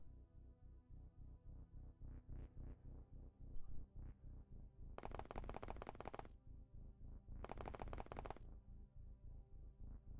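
Soldiers' gunfire in the OpenXcom game, rapid repeated shots in rhythmic bursts, with two longer bright crackling volleys of dense fire partway through, moderately loud and without talk.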